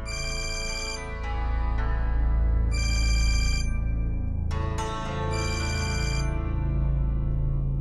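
A mobile phone ringtone plays alone indoors, a loud bright electronic ring in three repeating bursts with short gaps between them.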